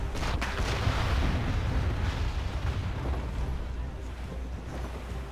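Ship cannons fire in an Assassin's Creed Rogue naval battle, giving a loud booming blast followed by a long, heavy rumbling roar that slowly fades.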